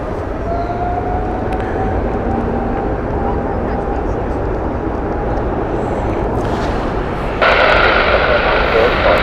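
Aircraft at Heathrow Airport, a steady low jet engine rumble with a faint high whine, growing louder and brighter near the end, while people talk over it.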